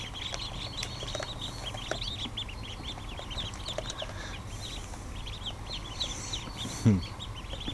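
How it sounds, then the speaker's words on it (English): Newly hatched ducklings keep up a dense, continuous chorus of high peeps, close and steady, over a constant low background hum. "Oh, ducklings."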